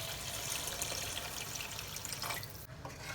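Around 750 ml of water pours in a steady stream into chicken masala in a pot for chicken vadi biryani, a continuous close splashing gush that softens near the end.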